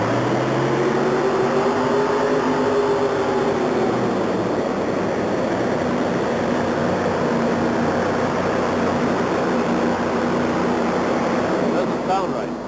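A two-wheel-drive class monster truck pulling at the Minneapolis Metrodome in 1987, its engine roaring loudly and continuously with a rising harmonic drone against heavy crowd noise in the indoor arena.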